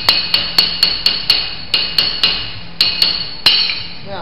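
Sharp metallic strikes of a dolly hammer flattening copper plugs on an anvil, about fifteen close, ringing blows in an uneven rhythm with brief pauses, each ring decaying quickly, no talking.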